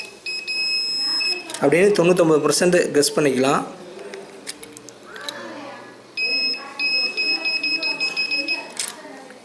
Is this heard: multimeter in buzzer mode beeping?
yes